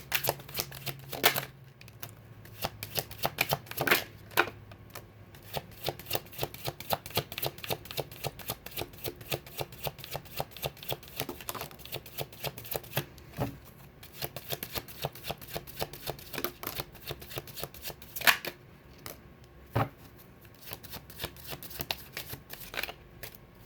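A deck of tarot cards is shuffled over and over, a long run of quick, crisp riffling flicks and soft slaps in a steady close rhythm, with a few brief pauses and no talk.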